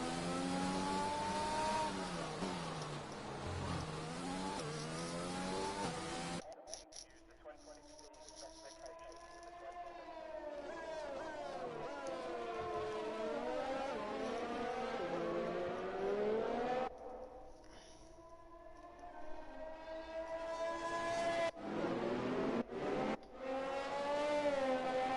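Race cars rolling through a formation lap in a racing game at the Baku circuit, engines droning and revving in overlapping pitch sweeps throughout, with brief dropouts.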